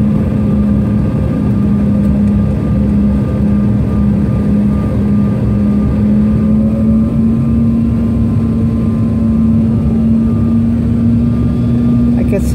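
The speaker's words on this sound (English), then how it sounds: "Coming in for landing at Burbank." Steady, loud drone of an airplane's engines heard from inside the cabin while coming in to land at Burbank airport, with a constant hum and no break throughout.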